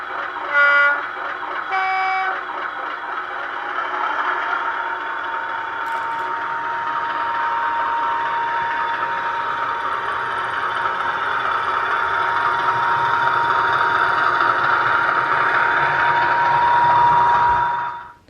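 A Hornby Class 50 model locomotive's digital sound file plays two short two-tone horn blasts, then a steady diesel engine drone with a high whine that holds evenly before cutting off abruptly.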